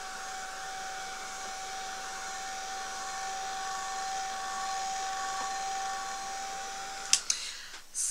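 A hair dryer blows on painted layers of a statue, a steady whirring hiss with a thin whine running continuously at moderate level before it cuts off, followed by a few handling clicks.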